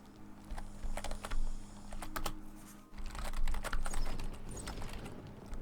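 Computer keyboard keys clatter in quick irregular bursts during a game of Epistory, close and crisp, with short pauses between runs of keystrokes and a faint background game soundtrack.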